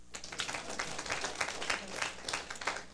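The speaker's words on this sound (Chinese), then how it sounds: "拍手。" An audience at a lecture gives steady clapping that continues throughout, dense and moderately loud, with no voice over it.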